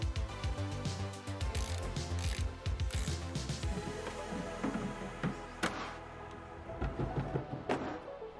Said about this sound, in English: the top goes back on, and it just gets secured down with a bunch of 3/8 inch bolts